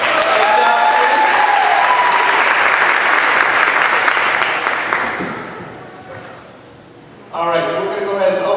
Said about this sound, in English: round of applause for our contestants.